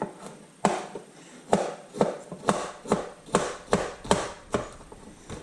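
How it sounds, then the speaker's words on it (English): Stainless steel knife chopping peppers on a board, about a dozen crisp, evenly spaced chops in a steady rhythm, close and clear with no talking. "going at it with the knife, chopping up some peppers"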